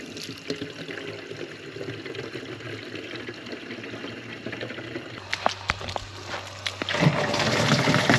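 Water pours and trickles from a campsite's own water supply, a continuous gentle splashing that grows fuller and louder near the end as a container fills, close by with no talking.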